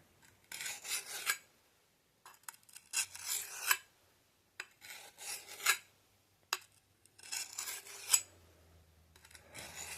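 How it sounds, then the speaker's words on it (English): A medieval-style woodsman axe edge being sharpened by hand, making repeated rasping strokes in bursts of about a second each, with short pauses between, close and fairly loud. "And then I just sharpen it."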